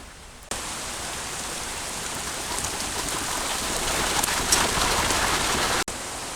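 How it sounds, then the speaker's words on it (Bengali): Steady, dense rain patters continuously on a surface, a constant hiss with no voices. "ওরে বৃষ্টি ওরে বৃষ্টি আর বৃষ্টি আজকে খালি বৃষ্টি কতদিন ধরে খালি বৃষ্টি হইতেছে"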